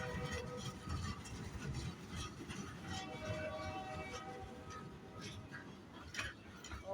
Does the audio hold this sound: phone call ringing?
no